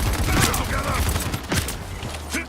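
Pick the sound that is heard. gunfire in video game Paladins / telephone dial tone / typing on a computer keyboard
gunfire in video game Paladins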